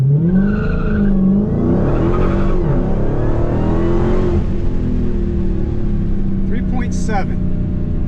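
A Dodge Challenger Hellcat Redeye Super Stock with a custom setup launches from a standstill in second gear, its engine a loud, sustained roar that climbs in pitch with a shift partway through and brief chirps near the end.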